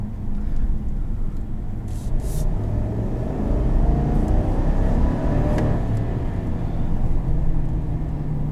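A 2021 Chevrolet Silverado LT Trail Boss pickup accelerates, a low engine rumble heard from inside the cab that rises steadily and holds, with no talk.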